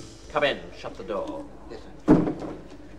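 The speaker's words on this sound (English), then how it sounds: "Come in, shut the door." A door pushed shut with a single dull thud partway through a 1981 BBC comedy sketch record, with voices talking before and after it.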